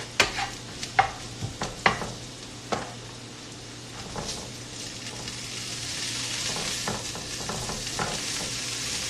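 Thinly sliced flank steak dropped into a hot pan with onions, sharp clacks and stirring knocks at first, then a steady rising sizzle of frying close by, no voices.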